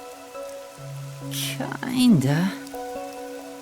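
Steady rain patters through a city scene in the video game Master Detective Archives: Rain Code, beneath sustained music tones, with a brief spoken word and a swooping vocal sound in the middle.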